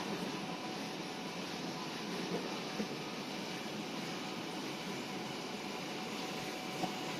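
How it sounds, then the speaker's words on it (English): A Yamaha SMT assembly machine runs inside a PCB factory, giving a steady, broadband mechanical whir. It holds at a constant, moderate level throughout with no pauses, and no voices are heard. "Here is our SMT machine. It's a very famous brand, Yamaha."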